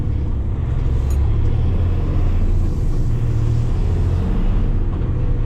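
A 2025 Kenworth T880 truck pulling out of a quarry, heard as a loud, constant, deep engine rumble with steady road and cab noise throughout.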